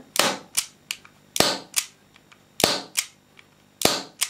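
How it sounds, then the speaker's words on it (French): A HWS M2019 airsoft gas revolver is dry-fired repeatedly, its mechanism giving sharp, close popping clicks in quick pairs, with a little leftover gas puffing on each shot. "on entend des ploc-ploc, c'est parce qu'il reste encore un peu de gaz dans le revolver"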